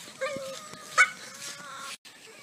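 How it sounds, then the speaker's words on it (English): A dog in a pen whimpers and gives a short yip at a slight distance, with faint background noise and a small rustle. "those are our dogs in the pen"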